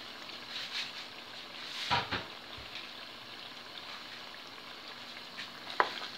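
Tomato sauce with pulp poured into a pan of cabbage and pork ribs, then stirred; a low steady sizzle with a few soft splashes and a sharp clink of the utensil against the pan.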